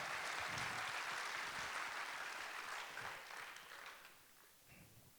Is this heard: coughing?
no